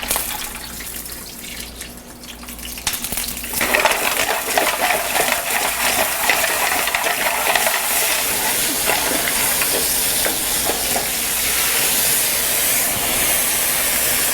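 Little neck clams and mussels dropped into a hot pan of olive oil, quiet at first, then a loud sudden sizzle that settles into steady crackling hiss, alone without voices.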